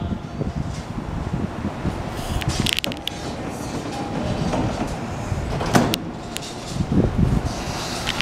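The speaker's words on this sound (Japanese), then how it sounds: "4番線ドア閉まりますドア閉まります" Train carriage noise with mechanical creaks and several sharp clunks of an E231 series train's sliding doors shutting at platform 4 of a Japanese station, over a steady platform rumble.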